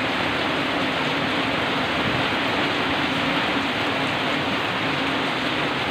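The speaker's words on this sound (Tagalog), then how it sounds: "Gawa ng malakas ang ulan" Steady, dense downpour of heavy rain, a continuous loud hiss of drops with no pauses and no voices.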